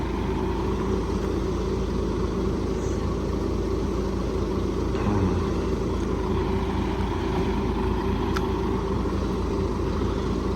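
Truck engine idling steadily on weighbridge scales while delivering wheat, a constant low mechanical hum with no talking.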